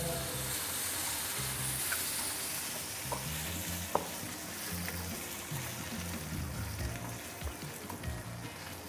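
Garlic and ginger fry quietly in a pan with a steady crackling sizzle and a few light stirring knocks, under a low hum in the background.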